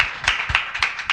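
A church congregation at a worship service claps in a quick, rhythmic run of sharp hand claps, close and fairly loud, with no voices over it.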